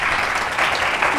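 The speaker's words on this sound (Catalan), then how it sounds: "Aplaudiment, sí senyor." Studio audience applause on a Catalan TV spelling quiz, a steady dense burst of clapping filling the short moment with no voices over it.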